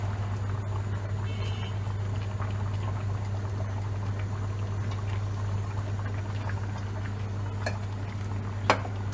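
A glass of white wine is poured into a simmering pot of chakapuli, a Georgian meat stew. A continuous liquid pour and gentle bubbling run over a low steady hum, with one sharp clink near the end.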